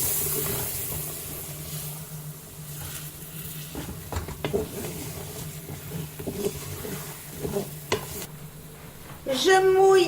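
Veal roast browning with a spoonful of flour in a Cookeo pressure cooker, a soft sizzle under intermittent stirring scrapes and taps, close by, ending with a sudden louder burst of noise.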